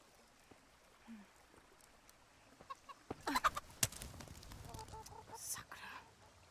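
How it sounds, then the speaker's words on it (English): Chickens cluck and squawk in the medieval game Kingdom Come: Deliverance, scattered sharp calls rising from a quiet, stream-like ambience, with murmured speech mixed in. "Goddamn chickens, man."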